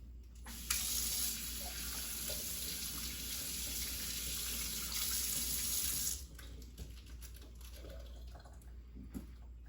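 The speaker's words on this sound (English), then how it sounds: "I'm gonna run this under hot water and I'm gonna put that in there for it to melt" Hot water runs from a kitchen tap in a steady, hissing stream for about five seconds, then cuts off, followed by a few quiet clinks and drips.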